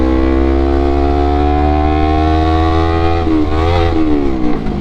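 Honda CBR250RR 250cc sport motorcycle accelerating hard on an open city road, a loud high-pitched engine wail climbing steadily in pitch, then dipping briefly at a gear change before rising again, close to the rider with no talking.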